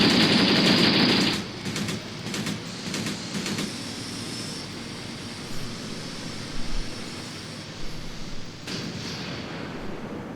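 Machine gun fire in the Soviet-Afghan War game Graviteam Tactics: a loud, dense burst for the first second and a half, then scattered quieter bursts and distant rattling over steady battle rumble.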